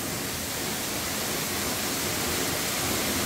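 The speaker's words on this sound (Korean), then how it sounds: "이렇게 폭포가 앞으로 떨어집니다" The 20-metre Suok Waterfall in Goesan plunges onto a rock ledge inside a great cliff-ringed bowl, a dense, unbroken roar of falling water that stays loud and steady throughout with no other sounds.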